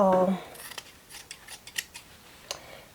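Scissors snip through satin fabric while trimming a finished reversible bonnet, giving a series of crisp close cuts spread across a few seconds after a brief voiced tone at the start.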